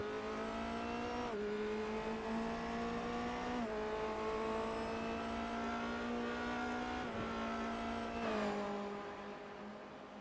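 Formula Renault 2.0 race car engines in an iRacing race at Suzuka whine steadily at high revs, dropping pitch briefly at each of several gear shifts, loud and continuous with no voices.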